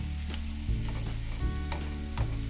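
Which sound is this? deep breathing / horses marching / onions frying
onions frying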